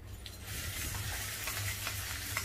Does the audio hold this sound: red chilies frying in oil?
yes